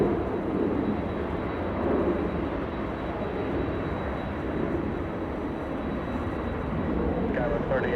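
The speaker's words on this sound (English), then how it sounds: "A 767 lifting off like an absolute rocket after departing on 2 5 right" A Boeing 767 lifts off from runway 25 Right at LAX, its jet engines making a steady, broad roar that holds loud and even throughout, with faint radio-style talk underneath.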